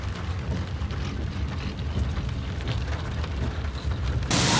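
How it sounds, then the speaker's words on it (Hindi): Heavy rain pours down outdoors in a dense, steady roar of hissing water, loud and unbroken, swelling slightly louder at the very end. "ओह कितनी तेज बारिश हुई है।"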